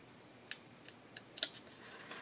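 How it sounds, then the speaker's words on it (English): Paper cut with a pair of pinking shears, a few soft separate snips and clicks spread over a couple of seconds, faint and close in a quiet room. "I'm just going to take my pinking shears"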